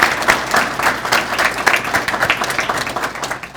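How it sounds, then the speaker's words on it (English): Audience at an award dinner applauding, a steady wash of many hands clapping close by that holds for several seconds and trails off slightly at the end. "Can we give another hand of applause to those 2 outstanding students and their fantastic comments?"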